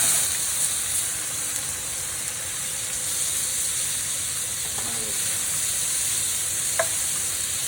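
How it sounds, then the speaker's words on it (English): Peppers and minced garlic sizzling in a hot pan, a steady close hiss of frying that holds evenly throughout, with a faint clink near the end. "And we're going to throw these peppers right in there."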